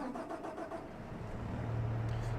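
A tractor engine in Farming Simulator 25 cranks and catches, settling into a low steady idle rumble that swells slightly toward the end, fairly quiet overall.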